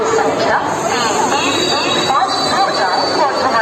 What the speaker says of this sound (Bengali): ওই যে ট্রেন ঢুকে গেছে